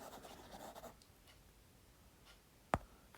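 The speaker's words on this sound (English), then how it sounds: "Maybe let's write down here." Marker or chalk writing on a lecture-hall board, faint scratchy strokes in a quiet room, with one sharp louder tap near the end.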